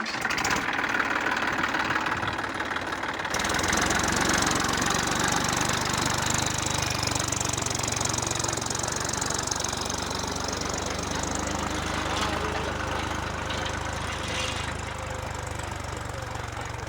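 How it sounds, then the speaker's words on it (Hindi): A Massey Ferguson 1035 DI 40 HP tractor engine runs steadily while pulling through a field, a continuous close mid-pitched chugging drone that holds nearly unchanged throughout with no talk over it. "ये ट्रैक्टर अपना 1035 टनर है और हकी पे चल रहा है ट्रैक्टर ये।"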